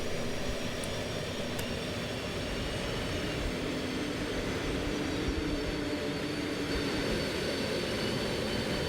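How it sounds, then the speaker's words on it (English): An F/A-18 Hornet jet engine spools up during an engine-two start in the X-Plane 11 flight simulator, producing a loud, steady roar with a high whine that continues throughout. "Okay, let's go ahead and start engine 2."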